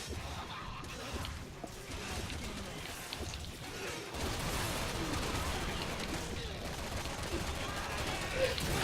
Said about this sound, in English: That last explosion killed me.